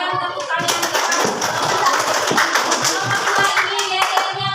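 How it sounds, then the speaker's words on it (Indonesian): Children in a classroom clapping loudly together, quick uneven hand claps in a busy patter mixed with young voices chattering throughout. "Mari kita berikan tepuk tangan yang keras."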